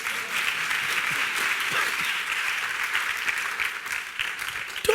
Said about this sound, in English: If I were you, I'd be clapping for Jesus.